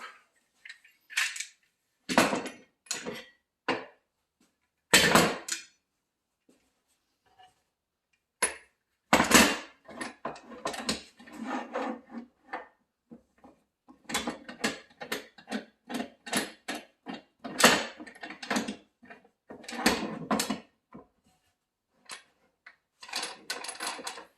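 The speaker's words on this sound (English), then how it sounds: "And now I want to put a couple of clamps on it." Clamps are fitted onto a glued plywood cabinet, giving a series of close metallic clicks, ratcheting and knocks in irregular bursts separated by short pauses, with no talking.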